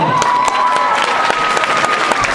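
A live radio studio audience in Cork claps and cheers for a guest, dense close applause with sharp individual claps and a few whoops throughout.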